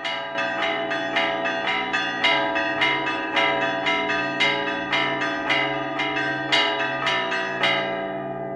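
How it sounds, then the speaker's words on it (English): Church bells ring a typical peal, the higher bells striking at a quicker tempo while the lower bells sound more slowly beneath them, a steady cascade of bright, overlapping strikes with long resonance and no voices. "Here we have a typical peal, where higher bells ring at one tempo while lower bells ring more slowly."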